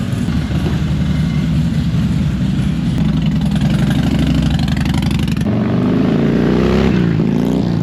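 A Harley-Davidson Dyna motorcycle engine runs loud and close with a steady throbbing rumble, then the pitch shifts and rises as it revs and pulls away, with no talking.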